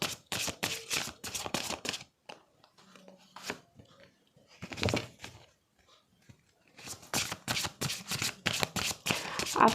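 Playing cards being drawn and shuffled by hand: rapid riffling bursts at the start and end, quieter scattered card handling in between, close to the listener, with faint talking in the middle.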